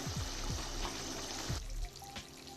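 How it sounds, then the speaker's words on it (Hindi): Potatoes fry in oil in a pan for aloo gosht with pink salt, giving a steady close sizzle and crackle with a few soft stirring scrapes, easing into a quieter hiss toward the end. "तो फ्रेंड्स यहाँ पे मैं आलू को भी अच्छे से भुनाई कर रही हूँ।"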